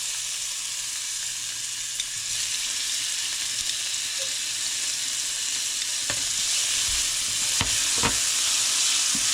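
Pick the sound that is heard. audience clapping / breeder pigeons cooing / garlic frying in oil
garlic frying in oil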